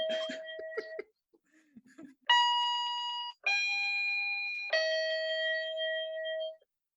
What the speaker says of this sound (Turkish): zilin çaldı